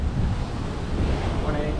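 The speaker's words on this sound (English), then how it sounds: "We already found some head high waves." Heavy Caribbean surf rolls in, a dense roar of breaking waves mixed with strong wind buffeting the microphone, loud and continuous.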